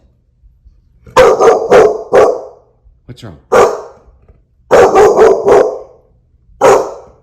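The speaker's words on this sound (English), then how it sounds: "The dog reacts by barking aggressively at the door" A dog named Jackson barks aggressively at a door during a frightening night, loud close barks in quick clusters with pauses between, while a person briefly speaks to it.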